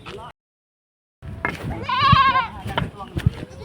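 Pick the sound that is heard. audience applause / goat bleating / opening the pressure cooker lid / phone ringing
goat bleating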